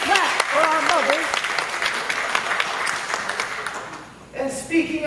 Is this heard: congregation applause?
yes